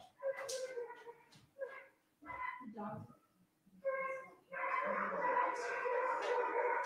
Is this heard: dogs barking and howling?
yes